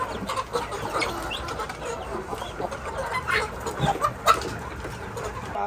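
Caged chickens and guinea fowl cluck and chatter while eating, with scattered overlapping calls close by and no talk over them.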